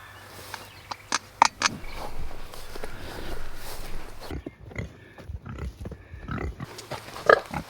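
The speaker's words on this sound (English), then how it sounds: "Let's go on and go see the pigs." Pigs on a small homestead give a few grunts and snorts at close range, mixed with footsteps and rustling as someone walks among them. Occasional brief sounds rise above the moving.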